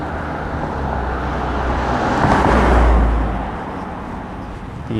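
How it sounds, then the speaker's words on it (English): A passing shuttle bus, empty, on a residential street in Toronto's Lawrence Park, its broad road rumble swelling to a peak midway and then fading, with no talk. "There's an entirely empty shuttle bus going by."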